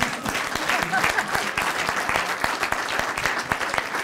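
An audience at a city address breaks into sustained applause, with sharp individual claps standing out against a continuous wash of clapping and a voice faintly underneath.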